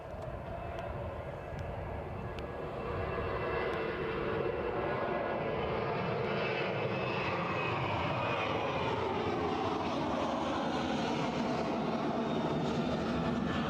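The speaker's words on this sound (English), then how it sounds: "Here, the Dreamliner at Prestwick is about to leave." A Boeing Dreamliner's jet engines roar at Prestwick as it departs, a broad steady rumble rising slowly in the distance.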